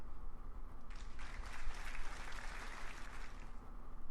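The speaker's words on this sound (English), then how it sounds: "The audience around us claps and cheers, but Claude and I are silent." Crowd applause and cheering from the Cinderella Phenomenon visual novel, a broad wash of clapping that swells after a quiet opening and holds steady at moderate loudness with no voices over it.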